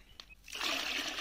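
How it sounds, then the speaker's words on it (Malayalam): Water pours into a container for mixing a banana plant fertilizer, a brief close splash and trickle that swells after a quiet start. "നമുക്ക് 2 ലിറ്റർ വെള്ളം കൂടി ഇതിലേക്ക് ആഡ് ചെയ്ത് കൊടുക്കാം"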